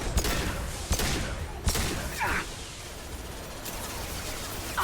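SMG fire in the video game Mass Effect 2 comes as a few sharp, scattered bursts and pops over a dense, noisy battle din, with no speech.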